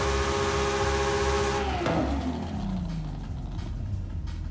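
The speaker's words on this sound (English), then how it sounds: "I love how these cars sound. I love how I can rev my engines as I am considering new parts." Chevrolet Corvette ZR1 engine in Forza Horizon 5, a loud sustained rev that sweeps downward midway, then settles into a lower rumble with crackling texture.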